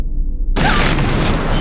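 A loud explosion effect from the party game Trivia Murder Party 2 bursts in abruptly after a quiet moment and roars on as a dense, sustained blast.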